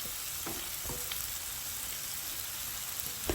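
Boiled mashed potato and bay leaves fry in hot oil for an aloo kochuri filling, with a dense, steady crackling sizzle and a few soft stirring knocks, close and continuous.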